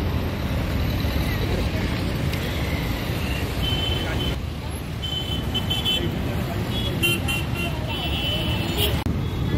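Traffic rumbling steadily over Dhakuria Bridge in Kolkata, with a bus passing amid continuous road noise, scattered horn toots and a noisy street mix, with people talking throughout.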